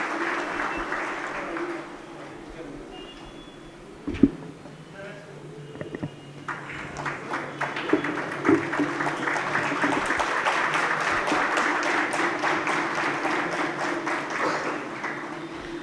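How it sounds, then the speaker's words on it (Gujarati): An audience at a Surat community talk program applauds, the clapping swelling into a loud, dense, sustained burst in the second half after a quieter stretch with some talking and a sharp knock. "એવા જયંતિભાઈને જોરદાર તાળીથી વધાવીએ"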